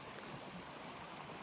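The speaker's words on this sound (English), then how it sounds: "here's where that water is dumping into the lower part of this" Water from a lake dam pours and churns into the lower channel below, a steady, dense broadband rush with no breaks, moderately close and alone.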